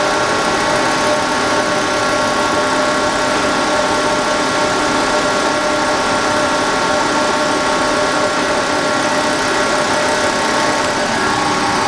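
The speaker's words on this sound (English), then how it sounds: "I have to adjust the pump a little bit on low idle to get it running well" A Mercedes M-series diesel injection pump engine set to low idle, with 6 mm elements, hums steadily and loudly for the whole stretch, a dense even drone with a faint vibrating edge and no voices.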